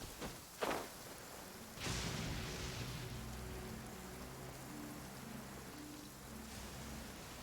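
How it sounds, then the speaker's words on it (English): Steady rain falls heavily and evenly in the video game Genshin Impact, with a sharp knock near the start and a faint low tonal drone underneath. "if you listen closely behind all the rain"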